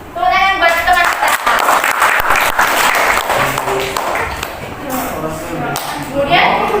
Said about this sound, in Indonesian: Tepuk tangan buat teman kita.